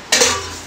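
Dishes and metal utensils are handled while washing up in a home kitchen. A single sharp, close clatter is followed by a short fading ring.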